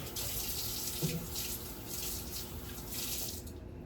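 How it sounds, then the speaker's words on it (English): Running tap water splashes steadily as a fork is rinsed under a faucet, a continuous close hiss of flowing water with no talking. "And just rinse the fork off."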